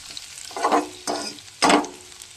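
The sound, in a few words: spices tempering sizzling in hot oil, with bay leaf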